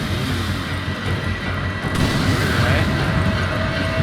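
Explosive blasts as barrels are shot in Resident Evil 5, heard as a dense, continuous barrage of booms and crashing gunfire-like impacts, loud and sustained throughout, with a heavier surge midway.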